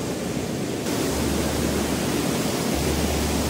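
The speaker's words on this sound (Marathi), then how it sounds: "आणि इथं आहे धबधबा आणि हा आहे तो धबधबा." Bhivtas waterfall at Surgana near Nashik, a dense steady roar of falling water, close and loud, with a low rumble underneath and no voices.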